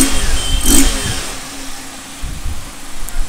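A TVS Apache BS6 motorcycle engine with a misfiring problem idles and blips, with a brief rev early on and another short rise near the end, loud and close.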